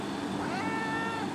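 A cat gives one drawn-out, wavering meow over a steady background hum, fairly close and with no talking.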